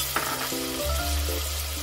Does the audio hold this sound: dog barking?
no